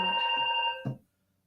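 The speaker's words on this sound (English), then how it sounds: "Sorry about the phone in the background." A telephone bell rings in the background of an indoor card-making craft session, a faint trilling tone that stops abruptly after a short burst, followed by quiet.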